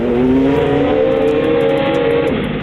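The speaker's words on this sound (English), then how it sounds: "Spinning tires plus no traction equals one overheated engine." A truck engine revs hard and steadily with its tires spinning for lack of traction, a loud continuous drone with rising pitch that stays up close throughout.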